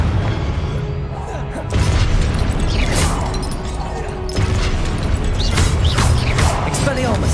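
Blasting Confringo spell in Hogwarts Legacy bursts out in loud, repeated booms and crashes over a busy game-combat soundscape, with several impacts through the stretch and a dense, steady din between them.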